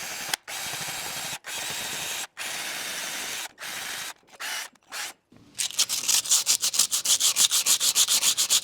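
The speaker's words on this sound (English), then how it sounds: "I'm just going to go after it with some 80 grit sandpaper in between where I can't get the grinder with the lug studs in my way." Hand sanding of a brake rotor on a 2016 Chevrolet Suburban LT with 80 grit sandpaper around the lug studs: repeated close rasping strokes broken by short pauses, then faster, brighter scrubbing strokes at the end.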